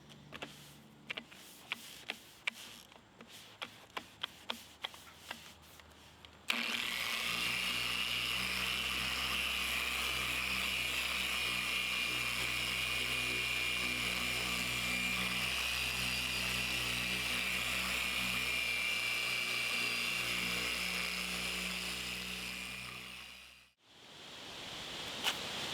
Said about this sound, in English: I'll just keep buffing